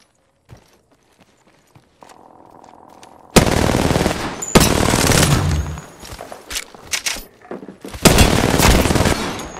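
Apex Legends gunfire during Wraith gameplay starts with faint scattered clicks, then breaks into loud rapid bursts of automatic shots and heavy impacts, with brief pauses between volleys.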